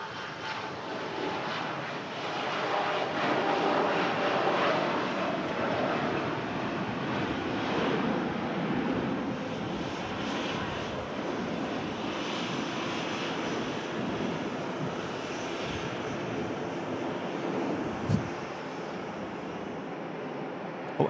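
A fixed-wing airliner comes in to land at Manchester Airport, its engines a steady broad roar with wind rushing across the microphone, loud and continuous from start to finish.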